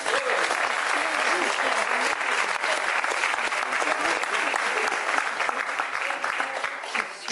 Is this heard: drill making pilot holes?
no